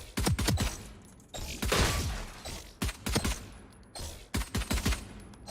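Ghost pistol shots from the tactical shooter Valorant, sharp and close, fired in quick bursts of two to four with short pauses between groups, each crack ringing briefly, no talking.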